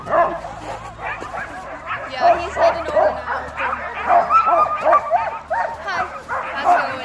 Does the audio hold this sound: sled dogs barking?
yes